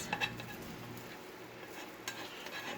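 Celery and onion sizzle and fry in a cast iron skillet, a soft continuous crackle with a few light stirring clinks, fairly quiet and with no talk.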